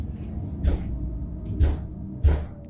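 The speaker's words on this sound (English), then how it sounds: "This thing's always closing doors." A door swings shut three times in a row, each close with a dull low thump and a short rattle, spaced roughly a second apart in an otherwise quiet room.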